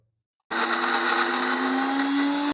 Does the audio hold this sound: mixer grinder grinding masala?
yes